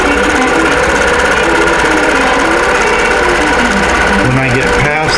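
An embroidery machine stitching out a row of Fanfare quilt blocks, a fast continuous mechanical whirring and clatter held at steady loudness, with a voice talking over it.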